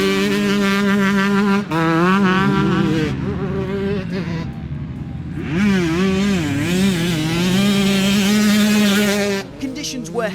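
2025 KTM 125 SX two-stroke motocross bike ridden on a heavy track, its high, buzzing engine revving up and down through gears continuously, loud and close throughout.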